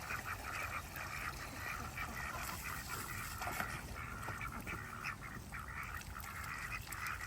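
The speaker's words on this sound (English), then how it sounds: "Oh yes, there's some ducks in there." Ducks on a homestead quack repeatedly near a water trough, with irregular nasal calls overlapping above a constant background of running water.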